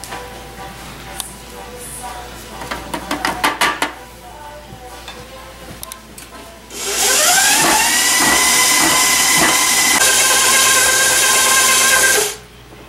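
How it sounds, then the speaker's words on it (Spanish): Kitchen mixing of cookie batter ingredients after the eggs are beaten: a run of clinks and taps against a bowl, then a long loud steady whir of an electric mixer that stops near the end. "Después de batir los huevos, mezclamos todos los otros ingredientes."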